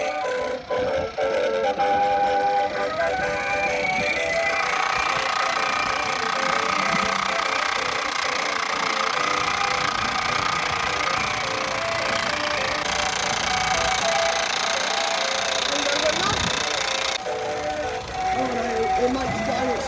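A Mamod toy steam engine runs with a close, steady mechanical rattle and chuff, continuous and fairly loud, under occasional voices in the background.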